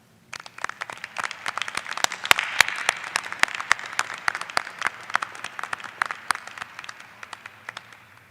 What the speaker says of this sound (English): acknowledge your law school support crew with a round of applause